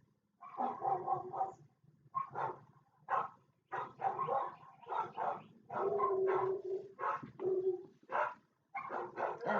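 Neighbourhood dogs bark in rapid, overlapping bursts outdoors, several animals yapping and snarling together at moderate distance, with only brief gaps between volleys.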